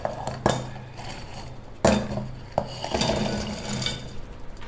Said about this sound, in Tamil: இப்போ ஒரு மிக்சி ஜார் எடுத்து இந்த பிஸ்கெட்லாம் அதில் சேர்த்துடலாம்.